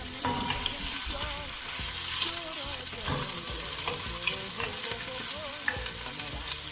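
Onions fry in peanut or corn oil in a pan, a steady loud sizzle with the scrape and clatter of stirring throughout, close and continuous.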